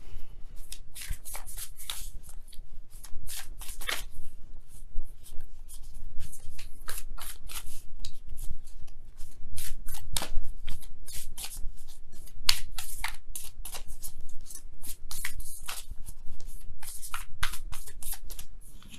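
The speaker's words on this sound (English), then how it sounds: "You guys have a lot of cards in here, but we go ahead and really shuffle." Tarot cards are shuffled over and over, a steady stream of crisp riffling and flicking sounds, close by and continuing without talk.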